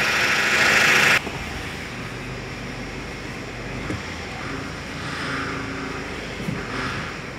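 A Ford 2.0 power steering pump, its lines not yet fully filled, drones and whines loudly as the wheel turns. A harsher, louder first second drops to a steady noisy hum with no speech.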